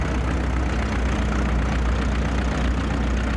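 A Minneapolis Moline 37Z tractor engine runs steadily at a farm steam show, a constant low idling rumble with a faint knock that holds even and unbroken throughout, no voices over it.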